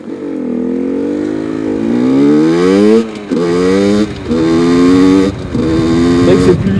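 A motorcycle engine revs hard through a U-turn, rising and falling in several close, loud bursts with brief drops between throttle blips.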